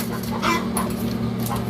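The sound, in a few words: chicken clucking near a homemade egg incubator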